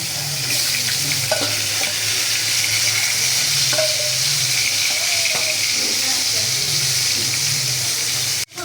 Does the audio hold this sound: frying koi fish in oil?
yes